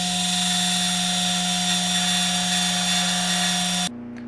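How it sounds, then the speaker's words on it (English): A lathe parts off the end section of a Ruger rifle part, a loud steady motor whine with a cutting hum that drops suddenly as the piece comes free near the end. "I'm going to part off this end section here."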